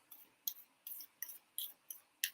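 Tarot cards of the minor arcana are shuffled in about seven short, crisp bursts of riffling at a fairly even rhythm, close and quiet, with no talking.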